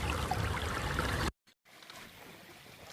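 Small stream on the Appalachian Trail, a steady close rush and trickle of running water that drops out briefly and then returns quieter and more distant.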